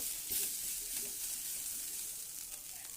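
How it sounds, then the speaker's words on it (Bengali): Vegetables with salt and turmeric fry in a pan, giving a faint, steady sizzling hiss across the whole stretch with a few soft stirring scrapes. "একটু নেড়ে চেড়ে ভালো করে ভেজে নেব"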